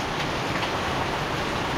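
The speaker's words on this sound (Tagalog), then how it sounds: "Lakas pa rin ang ulan" Heavy rain pours down steadily, a dense continuous hiss of drops drumming on surfaces, close and loud with no voices.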